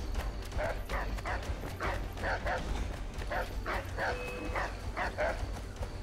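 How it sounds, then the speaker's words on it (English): Dogs barking in Assassin's Creed III Remastered, a string of about a dozen sharp, evenly spaced barks from nearby under low game noise and some talking. "Oh my lord, and dogs."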